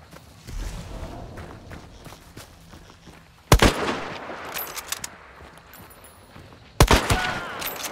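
Scottfield Spitfire pistol shots in Hunt: Showdown ring out as two loud, sharp cracks several seconds apart, with footsteps, movement and fainter distant gunfire scattered around them.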